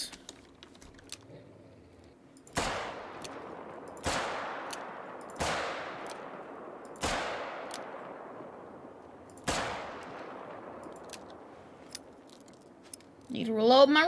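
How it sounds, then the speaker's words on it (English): Revolver shots in the hunting game Hunter: Call of the Wild, five sharp, loud cracks spaced a second or two apart, each trailing a long echoing decay across open terrain, with quiet gaps between. "Need to reload my revolver real quick."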